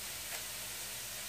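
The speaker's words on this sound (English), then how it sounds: "chopping up and sauteing some onions" A soft, steady sizzle of onions sautéing in a pan, a faint continuous hiss with no voices.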